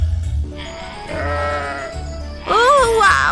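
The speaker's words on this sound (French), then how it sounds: "Oh, waouh, tu es le plus joli mouton que je n'ai jamais vu." Cartoon sheep bleating in a bright, wavering voice, a short bleat early on then a louder, higher cry at the end, with light music underneath.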